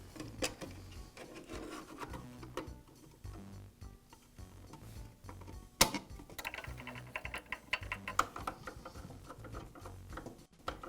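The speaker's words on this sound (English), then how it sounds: "Now I can reinstall the gearbox cover." Small metal parts and a cover being handled and fitted onto the gearbox of a DeWALT planer during a drive chain repair, giving scattered clicks, rattles and scraping taps up close with no talking.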